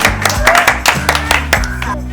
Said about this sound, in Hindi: चलिए जोरदार ताली मारिए इनको लिए।